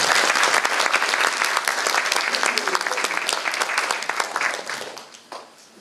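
Warm audience applause at a school patriotic assembly for Polish Independence Day in Mogielnica, loud sustained clapping from a hall full of people with sharp individual claps standing out, tapering off near the end.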